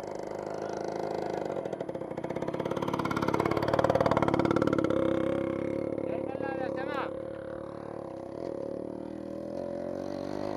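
A Yamaha RX 100 motorcycle with a new throttle cable and no working front brake runs in a Yemeni village after a push start, its engine a steady, close, harmonic drone that swells midway and then settles.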